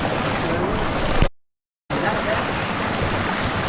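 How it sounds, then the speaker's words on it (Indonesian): A river stream flows over rocks with a steady, broad rushing wash of water, loud and close, interrupted briefly by a half-second gap of silence before the flow resumes unchanged. "Oh ini aliran sungai Citiisnya gini nih teman-teman."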